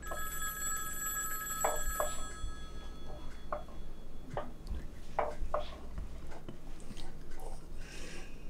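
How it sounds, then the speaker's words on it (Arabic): A telephone rings in a home kitchen, its bell tones starting loud and then recurring in short, regular bursts under faint background voices and household noise. "راح اروح اشوف التلفون"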